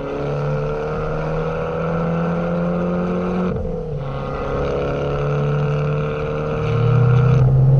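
An Abarth 595 turbo with a low, direct intake carries a steady engine drone with a high turbo whistle riding above it, dipping briefly as the revs change and then rising louder again toward the end.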